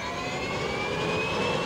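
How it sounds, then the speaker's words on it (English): A Honeywell TPE331 turboprop engine runs with a loud, steady turbine whine and a high rising tone, heard close and continuous with no voices. "start the engine"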